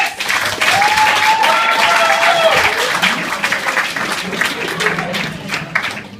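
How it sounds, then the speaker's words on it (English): Comedy club audience applauding steadily for about six seconds, a dense wash of clapping with some cheering mixed in, fading slightly toward the end. "Give a round of applause for Socrates!"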